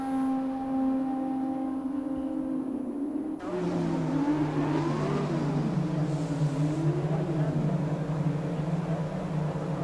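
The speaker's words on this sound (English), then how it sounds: "Very nice sounding from these F2 cars at this moment in time" Formula 2 race cars on the grid at the Bahrain Grand Prix, engines idling loudly and then blipping and revving with rising and falling pitch, several cars sounding together at close range.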